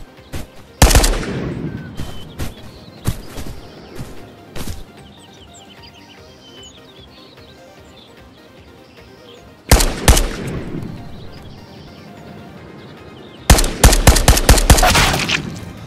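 Loud AK rifle bursts in the shooter game Ghosts of Tabor: a rapid string of shots at the start, then quieter near ambience with faint chirps, followed by two more heavy automatic volleys, the last one long and sustained.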